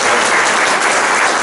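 A children's show audience gives a steady, dense round of applause, loud and close, filling the whole moment with no voices over it.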